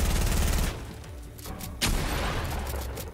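Gunfire in a Fortnite tournament match, a loud rapid burst of shots, a short lull, then another heavy volley, close and punchy with almost no talk.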